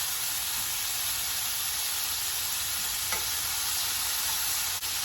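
Chicken pieces browning in a skillet for a keto casserole give off a steady, moderate sizzle and hiss of frying, constant throughout with a faint tick of a utensil near the end.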